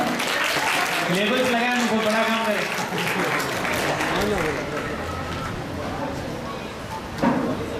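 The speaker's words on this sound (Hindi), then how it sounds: "तालियां" Applause from an audience at a free SSC coaching event run by a charitable trust, as students receive books, a steady clatter of clapping under someone speaking over a loudspeaker, fading slightly toward the end.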